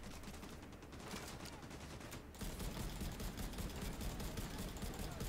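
Sustained rapid machine gunfire from a mounted gun in the video game The Division 2 rattles continuously throughout, growing heavier partway through.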